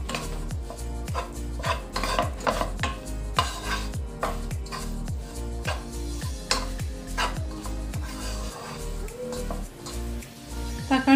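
A spoon scrapes and stirs chopped tomato and beef in a pan for a Kerala-style beef roast, giving a steady run of close, rhythmic scraping strokes with soft sizzling beneath and no talk.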